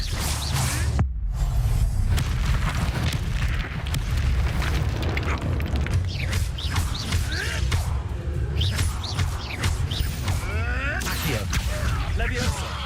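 The Incendio fire spell in Hogwarts Legacy erupts as a deep, rumbling burst of flame with booming low-end, sustained under continuous battle effects and intermittent voices.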